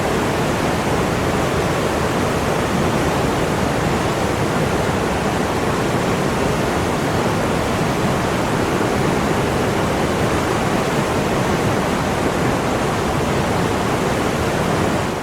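A river swollen after a night flood rushes past in a steady, dense roar, with no breaks and no voices, loud and continuous all the way through.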